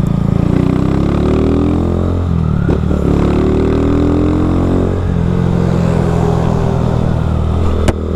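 Honda Fan 160 motorcycle fitted with a Dore exhaust pulling away, a loud close engine drone rising through the gears with a rough exhaust rumble and brief dips between shifts.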